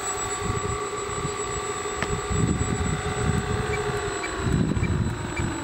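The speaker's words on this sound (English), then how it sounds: "the motors are always idling" Electric motors of a control-line B-29 model airplane idle with a steady whine and droning hum, constant throughout, loud and close, with faint wind buffeting and no voices.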